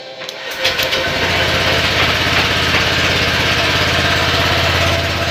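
A Honda Click motor scooter engine catches after a brief push start and settles into a loud, steady idle that continues close by to the end.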